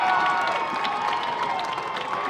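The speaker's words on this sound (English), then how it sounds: "By the roar of the crowd" A football crowd at a high school game roaring and cheering after a kick recovery, a broad sustained wash of voices and applause heard from a distance.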